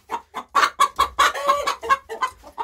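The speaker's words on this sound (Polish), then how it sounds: "Tutaj kury zaczynają się denerwować." Chickens cluck rapidly and loudly close by, a dense run of sharp, agitated clucks with no talking.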